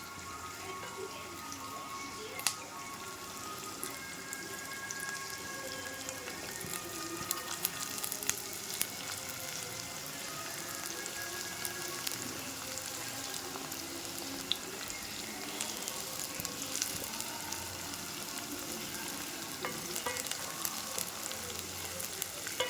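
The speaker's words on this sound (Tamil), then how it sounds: "வெங்காயம் கொஞ்சம் ப்ரௌனாக வதங்கணும்." Onions sauté in a pan for a Tamil tomato curry, a steady close sizzle and frying crackle running throughout with occasional stirring clinks and scrapes, and no talking.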